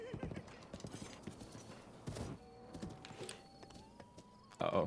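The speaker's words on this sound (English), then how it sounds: "It's another black horse." A black horse in the game The Legend of Zelda: Breath of the Wild clip-clops along in steady hoof beats, then gives a drawn-out whinny near the end. Faint talk sits in the background.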